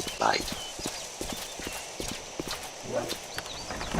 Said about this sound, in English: my horse comes running to me when I'm nearby